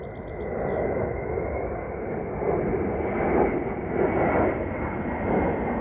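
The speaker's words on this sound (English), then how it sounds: "Oh, there's an airplane." A loud, broad engine roar of an airplane passing overhead, swelling and holding steady throughout.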